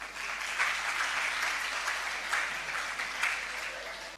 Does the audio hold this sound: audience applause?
yes